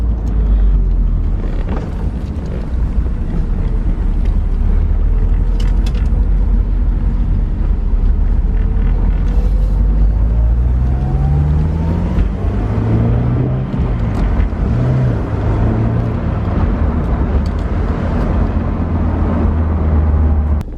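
A Honda S2000 sports car being driven, with a steady loud engine drone and rising-and-falling revs through the gears, wind rush over the microphone throughout.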